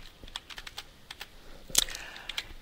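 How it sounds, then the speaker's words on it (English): Quiet clicks of typing on a computer keyboard, scattered uneven keystrokes entering a code, ending with a sharper, louder press of the enter key near the end, close and isolated. "if I know the code, I type it in and press enter"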